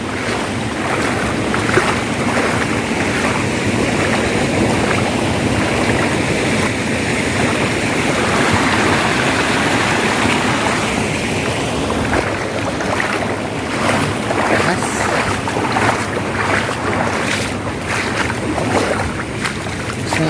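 Floodwater flows through flooded farmland during a second flood, making a continuous, even rushing wash. It stays close and loud, with no talking over it.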